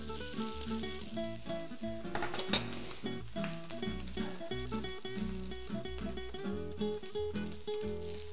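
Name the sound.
food being seared in a pan, sizzling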